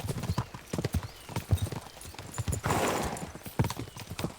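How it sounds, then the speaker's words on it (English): Horses in Kingdom Come: Deliverance II clip-clop steadily in a brisk rhythm with close, loud hoofbeats, a whinny rising briefly in the middle. "We should spur the horses on."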